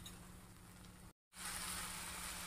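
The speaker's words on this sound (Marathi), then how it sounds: "आता ही मटकी व्यवस्थित परतून घेऊयात" Moth beans (matki) with red chilli powder, onion-garlic masala and salt sautéing in a pan, a steady close sizzle that cuts out briefly and then returns louder and brighter.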